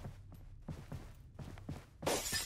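Glass shatters loudly in the Trepang2 video game, a bright crashing burst that ends the clip after a run of soft footsteps and low thumps.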